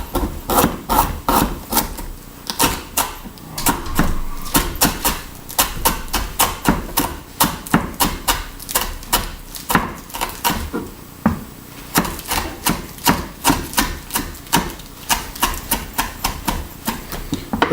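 Knife strikes through small baby beets fresh from the garden, a steady run of close, sharp chops on a board, repeating quickly with brief pauses and no voices.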